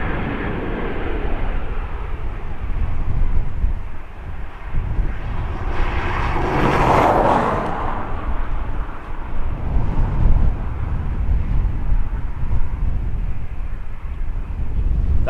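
A jet airliner lands at Dublin Airport on a windy day, its heavy reverse thrust building into a loud, broad roar that peaks midway, all over steady wind rumble buffeting the microphone.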